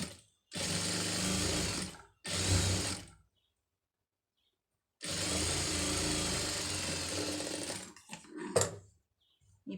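A sewing machine runs in three bursts as it stitches a fabric hem: two short runs of about a second and a half each, a pause, then a longer steady run of roughly three seconds. The motor is close and fairly loud, with no talking.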